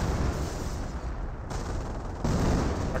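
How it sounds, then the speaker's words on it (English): Artillery fire in the Company of Heroes 1 strategy game, a dense continuous barrage of booming blasts and crackling gunfire that stays loud across the stretch, with a short dip partway through. "Artillery running on in."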